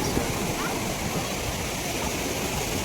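Continuous broadband rush of flowing water at a river or lake where boats are moored, steady and fairly loud from start to finish, with faint voices mixed underneath.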